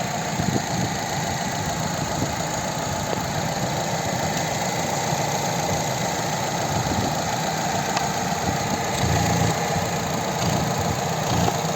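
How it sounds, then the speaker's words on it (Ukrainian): A 2010 Opel Zafira's 1.8 MPi petrol engine idles smoothly and evenly, a steady close-up hum with faint mechanical ticking and no talk. "Ось робота двигуна"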